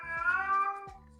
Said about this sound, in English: My cat is also, you know, speaks a lot. Always meows.